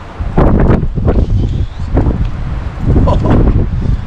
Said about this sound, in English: Oh, man, the wind's killing us.